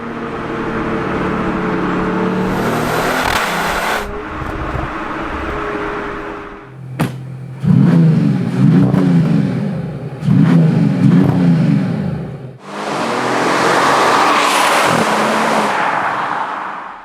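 A Mercedes-AMG E53 W214's inline-six exhaust gives a breathy, blowing drone that rises and falls over several revs, loud and close, with brief gaps between bursts.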